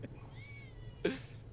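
A house cat gives a single short meow near the mic against quiet room noise. A faint, thin cry is also heard just before it.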